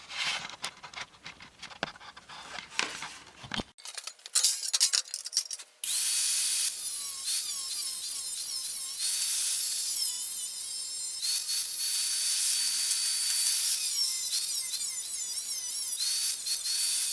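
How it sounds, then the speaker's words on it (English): An angle grinder shapes sheet metal for the rear wheel well of a 1966 Morris Minor, a sustained high whine running steadily for over ten seconds after some brief clattering handling noises. "then use the angle grinder to shape it"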